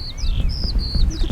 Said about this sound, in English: You can hear the birds. Lots of birds.